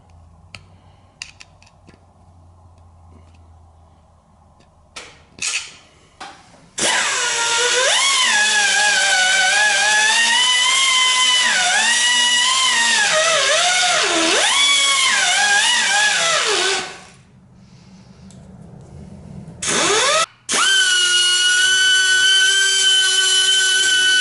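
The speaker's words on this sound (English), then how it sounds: "I guess I'm gonna start grinding on it." Power tool grinding on a Pontiac 455 engine part, starting after a few short clicks and handling noises, then a loud continuous whine that rises and falls in pitch under changing load for about ten seconds before stopping, followed by a brief final burst.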